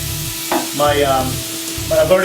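Steak for a churrasco beef wrap sizzles loudly in a hot pan, a close, dense hiss that swells and shifts as the meat is stirred and moved.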